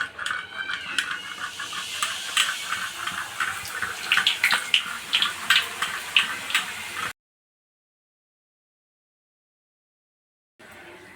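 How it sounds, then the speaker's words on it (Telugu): Sev dough pressed straight into hot oil in a kadai, frying with a dense, continuous crackle and bubbling hiss for about seven seconds, then a long silence before the sizzle briefly returns at the end. "ఆయిల్ హీట్ ఎక్కింది, మనం దీంట్లో సేవ్ ఇలా ఒత్తేసుకుందాం."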